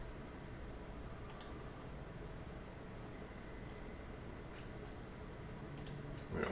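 A computer mouse clicks twice, quiet and well apart, over a low steady background hum.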